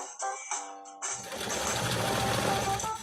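A 1962 Singer 328K sewing machine runs a zigzag stitch through leather, starting with a few short bursts before settling into a steady, close, continuous mechanical whir.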